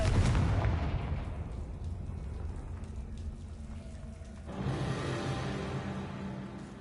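A Confringo fire spell blast in the video game Hogwarts Legacy gives a sharp explosive burst followed by a crackling, fading rumble, then a second fiery whoosh of crackle partway through.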